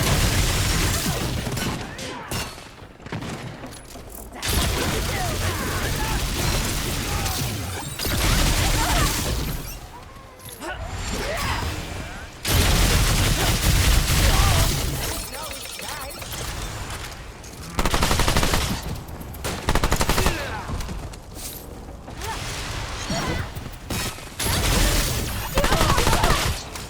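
Dense, loud gunfire rattles through a Remnant II firefight in the Fae lands, with sustained bursts and volleys broken by brief lulls, alongside crashes and booms.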